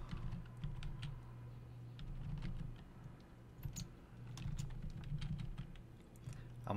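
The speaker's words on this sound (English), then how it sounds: "I'll type the teacher's name now." Rapid typing on a computer keyboard while filling in a Microsoft Word document, a steady patter of close, soft key clicks in uneven bursts over a low background hum, with no talking.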